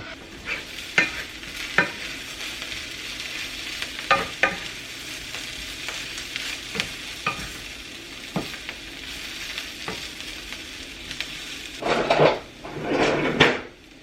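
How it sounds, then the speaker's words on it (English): Onion sizzling in a pan under a steady low fry, with repeated sharp scrapes and taps as it is stirred and turned every second or so, followed by two louder clattering pan movements near the end. "Just want to make sure that I turn it often so that I don't get the onion burnt."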